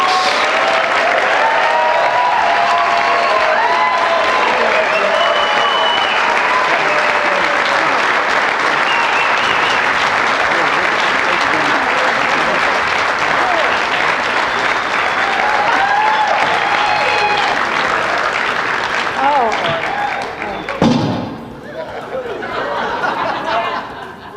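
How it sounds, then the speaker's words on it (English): Big, dense audience applause at the East Coast Surfing Hall of Fame induction, with cheers and whoops over sustained clapping that fades near the end as a voice begins. "Ladies and gentlemen, big round of applause."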